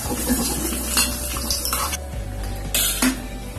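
Semolina for rava kesari is roasted in a pan, heard as scraping and clinking stirring with a spoon against metal and a low continuous hiss, close and fairly loud.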